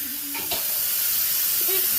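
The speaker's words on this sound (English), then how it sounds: "So let's give it some wash. Let's clean our pineapple up." Running water splashes and hisses steadily as a pineapple gets washed, a continuous close rush with faint brief tones of a voice near the start.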